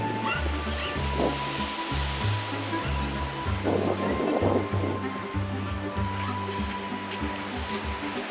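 Ocean waves wash onto a beach in a steady, broad rushing roar with gentle surges, close and fairly loud throughout, with low humming tones running underneath.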